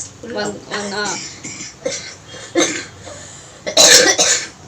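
A woman coughs, an older mother still recovering from an illness, with a short burst of harsh coughs near the end after a stretch of talking.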